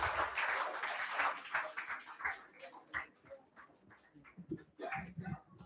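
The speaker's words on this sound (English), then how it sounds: "Can we have a huge round of applause for JF06?" An audience at a live school event claps for a presenting team, a faint burst of scattered applause that tapers off after a few seconds into quieter sounds.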